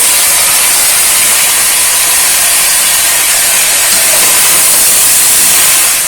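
Tomatoes hit a hot pan for veg pulao, raising a loud, steady, broad sizzle that holds without break from start to finish.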